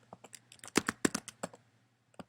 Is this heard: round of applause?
no